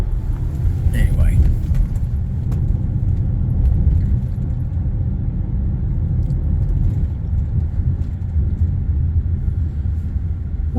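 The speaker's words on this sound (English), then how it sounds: "While all of you guys are sleeping, I'm driving." A car driving on a quiet road early in the morning, a steady low engine and road rumble filling the cabin throughout, with someone talking over it.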